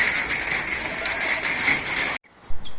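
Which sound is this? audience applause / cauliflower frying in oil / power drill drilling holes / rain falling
rain falling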